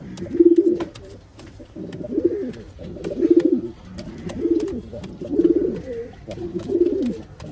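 Several pigeons coo in steady, repeated bouts, each low throaty phrase rolling out about once a second at close range, with faint background chatter between calls.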